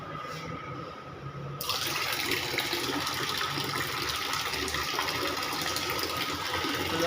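Water from a 400 GPD RO water purifier machine gushes in a steady direct flow, starting softer and turning into a loud, continuous rushing stream after a second or two, close by and with no talk.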